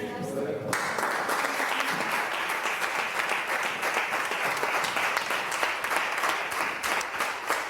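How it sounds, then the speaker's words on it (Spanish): Regional government councillors and their president applaud in a room, steady dense clapping that starts abruptly after a brief quieter moment and carries on evenly, with talk faintly underneath. "aplausos de todos los consejeros de la Junta, del propio presidente del Gobierno regional"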